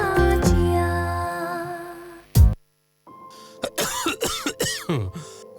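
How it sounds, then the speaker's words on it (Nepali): A person coughs repeatedly, a quick series of harsh, close coughs and throat clearing following a short musical passage and a pause. "खोक्न फेरि सुरु भयो है।"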